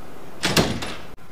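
A door opening as someone walks in during a Nigerian movie scene, a short close scrape and creak lasting under a second, then quiet room tone after a brief dropout.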